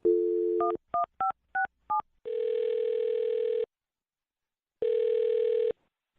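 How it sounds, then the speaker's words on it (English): A telephone number is keyed in as a rapid series of short DTMF beeps, followed by two long steady ringback tones separated by a pause, clear and close with no talking. "I'll dial this phone number right now and see if we can figure it out"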